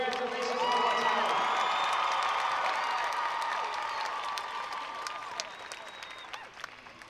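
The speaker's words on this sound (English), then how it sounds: "Give these guys a big round of applause and congratulations one more time." Arena crowd at a competition event applauds, cheers and whoops loudly. The clapping swells near the start and holds steady before thinning over about seven seconds.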